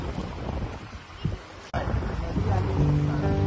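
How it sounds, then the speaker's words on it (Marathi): Waves where a river meets the sea at a sandy beach in Malvan, choppy water washing in under gusty wind noise buffeting the microphone, with a brief sharp knock midway and faint voices in the background. "नदीची लाट येते."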